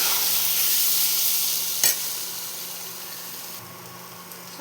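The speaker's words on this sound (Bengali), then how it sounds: "মশলাটা এর সাথে একটু ভাজতে হবে ভালো মতো।" Coriander powder masala frying with chopped taro stems in a pan, a steady close sizzle with stirring scrapes throughout and a sharper clatter near the middle, no voices.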